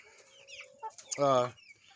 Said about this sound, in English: Chickens everywhere.